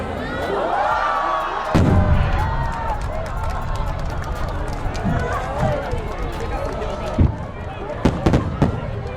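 Canister firework shells launched from mortar tubes burst in a busy run of crackling pops and sharp bangs, with a few louder reports near the end. Talk and crowd noise are mixed in throughout.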